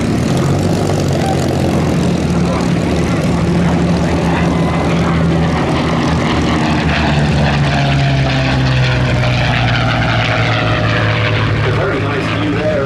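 Curtiss P-40C Warhawk propeller fighter passing at the Duxford Battle of Britain airshow, a loud steady engine drone with shifting pitch as it flies by, with a commentator talking over it.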